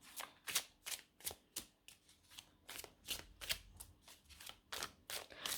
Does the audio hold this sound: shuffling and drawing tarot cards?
yes